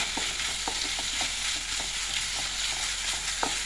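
Tomatoes and onions cook in a pan with a constant soft sizzle, broken by light scraping taps as they are stirred.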